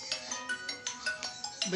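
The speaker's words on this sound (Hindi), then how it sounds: "वो हमारे सुभाष जी का फोन आ रहा है" A mobile phone rings during an indoor poetry gathering, its electronic ringtone repeating in quick, steady pulses at moderate volume, with a voice briefly audible near the end.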